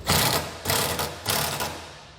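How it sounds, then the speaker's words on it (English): A ratchet with a 14mm socket tightens bolts on a fifth-wheel trailer hitch base in a 2021 Chevrolet truck bed, giving three close, loud bursts of fast ratcheting clicks. "Once everything's in place, you can tighten everything down. I'm using a 14mm socket."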